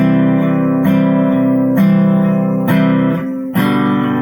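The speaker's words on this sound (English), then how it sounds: "we're going to make kind of like a little strum that maybe plays the root" Acoustic guitar strummed in an eighth-note pattern that picks out the root on the low strings of each chord, four bright chord changes ringing close and clear with no voice over them.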